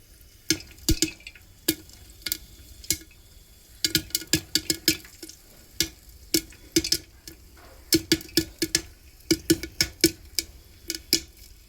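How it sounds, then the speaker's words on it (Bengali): Corn kernels burst one by one in hot oil for a quick street-food snack, sharp crisp pops arriving in irregular bursts and clusters, sometimes several in quick succession, close and loud over a quiet background. "এই যে দেখো তেলটা গরম হয়ে গেছে, মানে ভেতরে যে অয়েলটা থাকে এইবার ফাট ফাট করে ফাটবে।"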